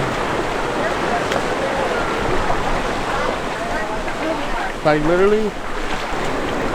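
A steady broadband roar of a waterfall on Maui fills the scene from start to finish, with a voice briefly speaking over it near the end.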